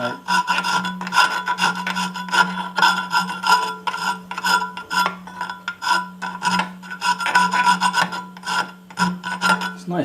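A hand file rasps back and forth across soft, fine aluminum in a workshop, steady rhythmic strokes close up with no talking.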